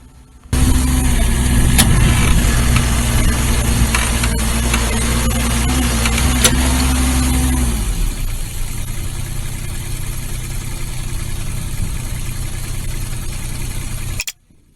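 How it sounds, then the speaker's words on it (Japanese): A stuck dump truck's diesel engine runs steadily with a low, heavy drone while its rear wheels spin in mud, the strain continuing for about eight seconds before dropping to a quieter idle rumble. "ダンプの後輪が速すぎずにいい感じで回転しています。"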